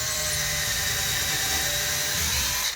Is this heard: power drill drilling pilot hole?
yes